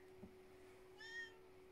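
A single short cat meow, faint and indoors in a room with a computer, heard against a low steady hum.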